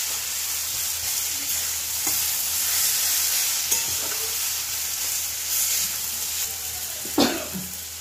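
Water spinach (kalmi shak) sizzles and crackles as it is stir-fried in a pan, with soft hissing, occasional stirring scrapes and a brief cough.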